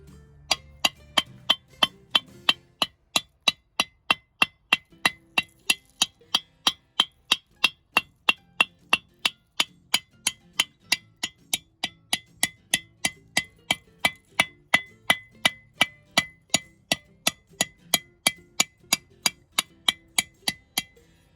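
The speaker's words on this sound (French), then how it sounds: "A couple ways of cleaning it off. First, a hammer." A hammer knocks heavy rust off MC9 bus brake parts, delivering dozens of sharp metallic clangs at a steady, even pace, loud and close with no speech.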